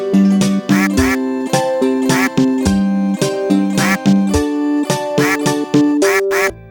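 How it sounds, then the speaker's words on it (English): A bouncy electronic video game main menu tune built from pitched, bit-crushed duck quacks repeating in a steady rhythmic pattern, with crunchy digital bursts punctuating each beat. "For the main menu track, I created a bouncy song with Bit Crush Duck Quacks"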